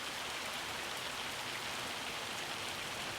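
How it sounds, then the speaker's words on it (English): Hail falling in the Farming Simulator 25 video game, a steady, dense patter of hard drops on surfaces, fairly faint and unbroken, with no talk over it. "Hail, we've got hail."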